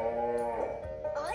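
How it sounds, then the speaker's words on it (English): A cartoon cow gives a drawn-out moo with bending pitch, loud and close, with a little background sound. "it's not a good idea to grab at Cow's tail"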